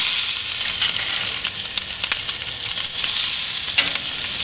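Brat burgers sizzle on a grill with a bright, steady hiss and crackle, close and fairly loud, with a few scrapes and pops as the patties are flipped.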